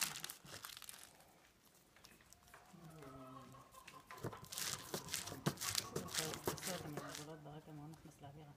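Tobacco leaves are pressed by hand in a cigar factory in Viñales, Cuba, giving dense crinkling and crunching of dry leaf, steady and close, while a voice speaks over it.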